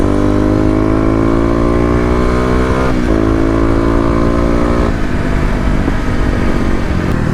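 A Kawasaki KLX250 dirt bike with new fuel tuning rides hard around a loop. Its loud, close engine climbs and drops in pitch through the gears as it revs and pulls out of a corner, with no talking.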